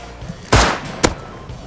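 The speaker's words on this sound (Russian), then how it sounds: "Слышу выстрелы." Two sharp gunshots from the video game Rust ring out about half a second apart, the first louder and longer, the second a brief crack, with quiet background between them.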